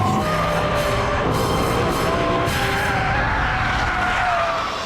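Mercedes C63 AMG tires skidding as the rear slides sideways on a race track, a loud continuous screech with wavering squeal tones over the steady roar of the engine, sustained for the whole stretch with no talking.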